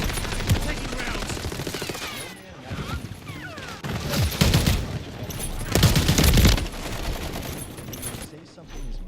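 Rapid automatic gunfire from a shooter video game, bursts of fusillade and explosions rattling in waves, loud and layered over the game's background sound effects.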